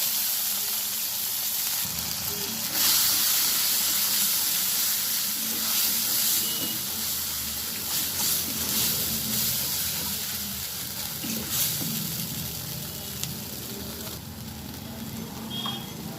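Ginger, garlic and onion paste with slit green chillies frying in a pan, giving a long steady hissing sizzle with faint crackles and occasional stirring. No one speaks.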